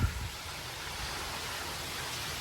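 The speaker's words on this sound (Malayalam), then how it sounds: "മഴ തകർത്ത് പെയ്തുകൊണ്ടിരിക്കുകയാണ് കേട്ടോ" Heavy rain pours steadily with strong wind, a dense broadband rush that stays even and fairly loud throughout, with no voices.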